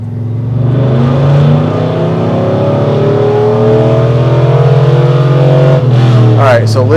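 Truck with a BTR Truck Norris cam revving hard on a dyno in second gear, a loud sustained engine drone climbing steadily in pitch, with a brief shift and voices near the end.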